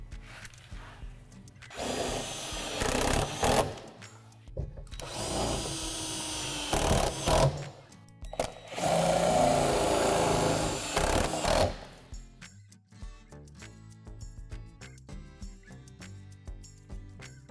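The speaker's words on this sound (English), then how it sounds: "then secure through the divots with the self-tapping screw." A power drill drives self-tapping screws through a wall panel of a Lifetime plastic children's playhouse in three loud bursts of whirring and grinding. Quieter clicks and handling sounds follow.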